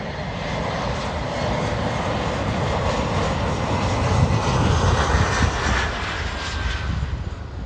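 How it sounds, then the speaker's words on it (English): An Embraer 175 jet airliner comes in to land at Miami International Airport, a loud, steady engine roar with broad rushing noise that swells slightly midway and continues throughout. "This is an Embraer 175 coming in to land at Miami International Airport."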